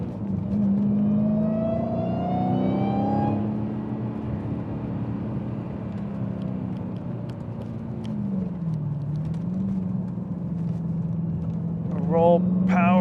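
A Dodge Hellcat's engine accelerates on a race track, its pitch climbing and then holding a steady drone. Someone talks over the engine throughout.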